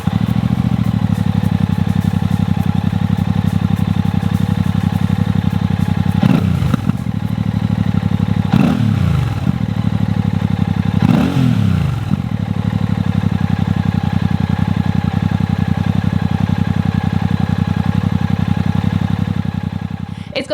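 A Royal Enfield Classic 650 twin with peashooter exhausts runs steadily at a low, even idle note, fairly loud and close, with three brief throttle blips rising and falling over the constant rumble.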